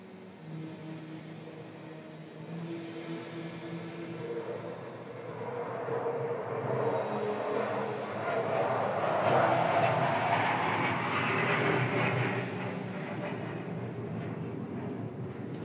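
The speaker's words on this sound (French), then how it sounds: "il y a des espèces d'avions, des avions" Airplanes flying overhead make a broad roar that swells over several seconds, peaks, then eases off, heard at a distance over steady low tones that continue underneath.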